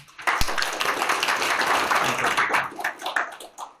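Attendees at a Korean legal scriveners' debate forum on reforming the court enforcement officer system clap in thanks, a burst that starts abruptly, holds steady, then thins into scattered separate claps near the end.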